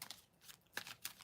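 Soft, quick riffling of tarot cards being shuffled, a few short papery bursts in close succession, faint and close.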